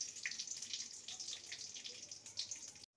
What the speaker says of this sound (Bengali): ফোড়নটাকে কয়েক সেকেন্ড ভেজে নেব।